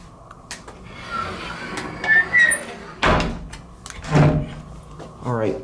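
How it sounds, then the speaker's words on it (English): A hotel room door at the Hilton Anatole in Dallas, Texas, swinging shut with a firm thud and latch click. A person talks before and after the closing. "we're gonna go ahead and close the door"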